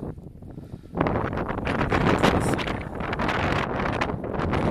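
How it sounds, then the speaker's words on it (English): Strong wind on the Åland islands buffets the microphone, a roaring, gusty rush that swells suddenly after a calmer moment and stays loud throughout. "windy all the time"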